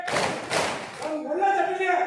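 A group claps hands in two quick bursts during a cheerful group exercise, then a voice follows, speaking or chanting.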